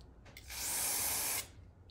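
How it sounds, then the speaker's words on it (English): A single sustained hiss of an aerosol can of carburetor cleaner spraying hornets for about a second, loud and close, starting and stopping abruptly in a quiet room. "Just spray it on them."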